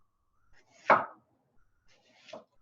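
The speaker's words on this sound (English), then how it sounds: "so now it's onion, and I'm just gonna cut this like really thin to put in there" A knife cuts thin slices of a peeled onion half, giving two separate crisp chops about a second and a half apart, fairly close and quiet, with no talk.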